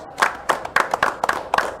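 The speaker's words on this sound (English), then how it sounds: "Give a round of applause for Joshua Evans" Scattered applause from a small audience at a $1500 No-Limit Hold'em poker final table as a player is introduced, a handful of sharp, uneven claps close by, no talking.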